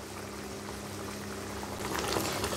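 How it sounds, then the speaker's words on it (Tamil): Okra and tamarind curry bubbling at a steady boil in a pot, a continuous close simmering hiss with a low hum that grows a little louder toward the end, with no talk over it. "இப்போ இது நல்லா கொதி வருதுங்க."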